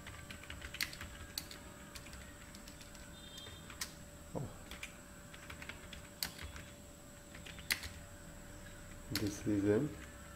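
A line being typed on a computer keyboard, a string of sparse, fairly quiet key clicks at an uneven pace, with a faint steady electronic hum and a brief louder clatter near the end.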